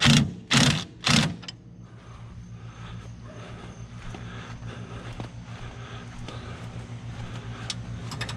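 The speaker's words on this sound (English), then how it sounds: "I'll go ahead and get my sway bar links tightened back up." A ratchet tightens the sway bar links on a car, a few loud clicking bursts at first and then a quieter, steady mechanical whirring with faint clicks.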